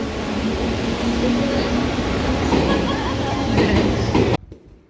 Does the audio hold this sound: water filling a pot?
no